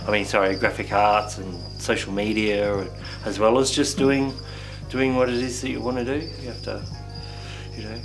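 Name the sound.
crickets chirping in a cricket tank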